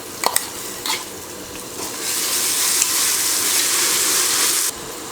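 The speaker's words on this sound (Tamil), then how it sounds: "வெங்காயம் நல்லா வதங்கினதுமே பச்சை மிளகாய், புதினா மல்லித்தலை பேஸ்ட்டை இதில் சேர்த்துக்கலாம்." Onions fry with green chili, mint and coriander paste in a pan for Thalappakatti-style biryani, a few stirring clinks at the start giving way to a steady, loud sizzle that cuts off near the end.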